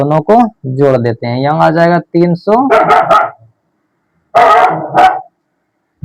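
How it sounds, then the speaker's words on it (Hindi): A dog barks a few sharp times in the background, partly masked by someone speaking Hindi close by. "यहाँ पर कुत्ता भौंक रहा था"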